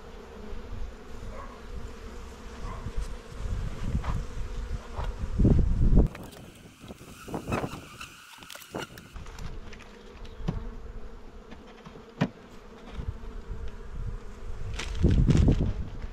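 Honey bees shaken off a hive frame onto dry honey frames, a close swarming buzz that swells in loud bursts at the shakes, with knocks and handling noises between.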